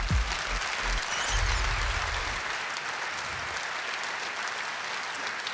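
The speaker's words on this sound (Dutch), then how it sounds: "Een applaus voor deze mensen, alsjeblieft." Loud, steady applause from an audience at a sports awards gala, continuous clapping throughout with some low rumbling thumps in the first half.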